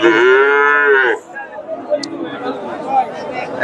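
A Friesian bull gives one loud, close, drawn-out moo lasting about a second at an outdoor cattle market, followed by a background of crowd chatter and murmuring voices.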